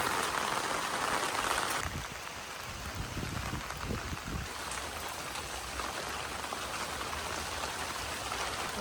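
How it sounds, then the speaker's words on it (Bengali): Heavy monsoon rain pours steadily over a rural field with young planted trees and weeds, a dense continuous hiss that is loudest in the first two seconds and then settles to a constant wash. "কাজ করতে করতে বৃষ্টি এসে গেল ঝম ঝম করে"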